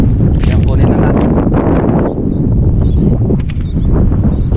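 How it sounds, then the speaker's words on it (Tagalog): Strong wind at an outdoor fishing and crab-trapping spot, buffeting the microphone in loud, continuous rough gusts that overpower everything else, with faint voices partly buried beneath. "Dahil malakas ang hangin guys"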